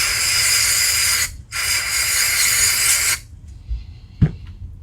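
Two long, loud hisses of aerosol carburetor cleaner sprayed on a badly worn carburetor, briefly interrupted, then quieter clicks and a small knock.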